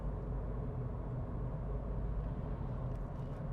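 A VW Polo on a test drive gathers speed around 60 km/h, a steady low engine and road rumble heard from inside the cabin, even and continuous with no talk.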